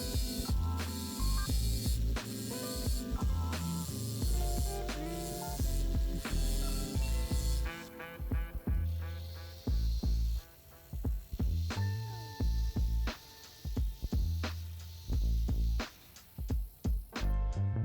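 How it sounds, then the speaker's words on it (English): Abrasive wheels on a rotary tool grind and smooth the inside of a gold halo ring, giving a steady whirring, rasping buzz that surges and drops in short bursts and stays fairly close and loud throughout. "I do this with a variety of abrasive wheels to ensure the inside of the ring is smooth and comfortable to wear"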